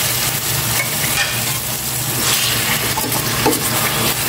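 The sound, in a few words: pork being sautéed in a pan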